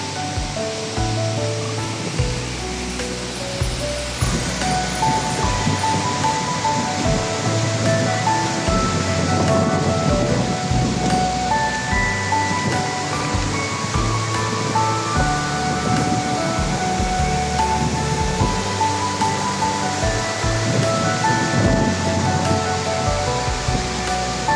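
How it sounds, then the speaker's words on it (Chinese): The Sipiso-piso waterfall in Sumatra roars steadily, a loud, dense, unbroken rush of falling water filling the whole stretch with no voices. "好宏伟的瀑布"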